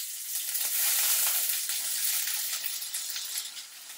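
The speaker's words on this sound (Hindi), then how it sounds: "मैं प्याज को 10-15 मिनट के लिए पकने दूंगी, जब तक प्याज गोल्डन ब्राउन नहीं हो जाते।" Chopped onions frying with whole spices in a pot make a soft, continuous bright sizzle, swelling slightly early on and easing toward the end, with no talking.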